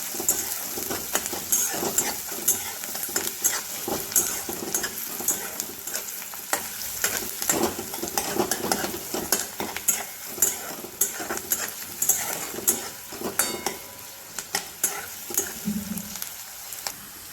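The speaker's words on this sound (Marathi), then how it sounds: "कांदा आपल्याला छान प्रकारे लाल करून घ्यायचा आहे" Onion frying for dal tadka in a pan, stirred steadily with a utensil, giving a continuous loud sizzle broken by frequent scraping and clinking strokes against the metal throughout.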